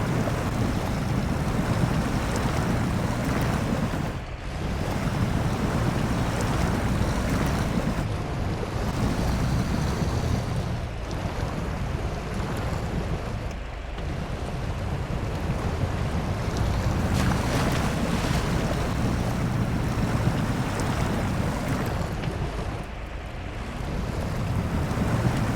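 In the Snow Runner video game, a vehicle floats in water amid continuous rolling waves and wind rush, a dense, loud wash with brief dips throughout and no talking.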